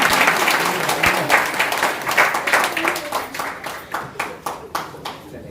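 Applause and clapping from an audience at a business training meeting, a dense burst of many hands that thins toward the end into scattered claps, with a voice briefly heard near the start.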